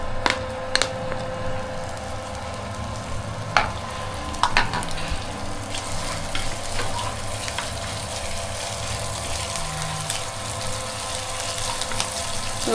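Garlic sizzles in hot oil in a pan while broccoli and mushroom soup is being made, a steady crackling fry with a few sharp clinks and stirring knocks, close and alone with no voices.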